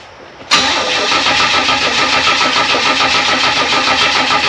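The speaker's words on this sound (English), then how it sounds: "Crank it again." A Chevrolet Nova engine cranking and trying to start, with little fuel in a tank that had run bone dry. It breaks in abruptly after a brief quiet moment, then grinds on as a loud, steady, unbroken churn.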